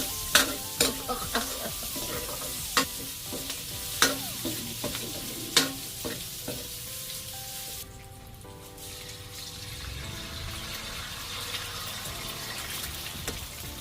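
Onions frying in a pan for Thai fried rice: a steady sizzle with repeated sharp scrapes and clanks of stirring near the start, then a continuous hiss of frying with quieter stirring, no talk.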